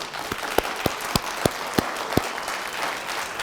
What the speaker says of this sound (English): Fantastic applause in the crowd